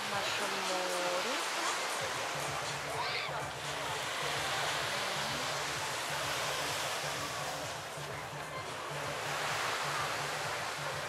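Sea waves washing onto a sandy beach beside a hotel in Turkey, a steady broad surf roar that fills the whole stretch, with a low engine-like drone underneath and faint voices at the start.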